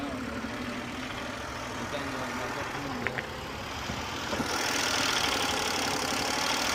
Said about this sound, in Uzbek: Hali ovoz baland ekanda motorni.